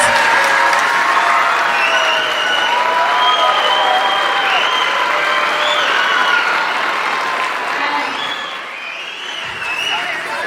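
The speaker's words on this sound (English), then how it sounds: "Can we just give them another big round of applause?" An audience at an elementary school winter chorus concert gives a long, loud round of applause, dense clapping mixed with cheers and whoops that gradually thins toward the end.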